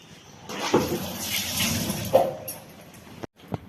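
Water pours steadily into a cooking pot for a few seconds, splashing close up, then stops abruptly with a small clunk after.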